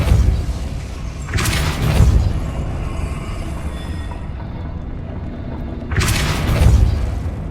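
Two deep, booming magical blasts from the Depulso spell in Hogwarts Legacy, each a swelling thump a few seconds apart, standing out over a low ambient game background.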